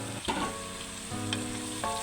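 Ginisang gulay vegetables sizzle steadily in a pan with dried fish (tuyo) and seasoning just added, bursts of stirring and scraping breaking through the constant frying hiss; no one speaks.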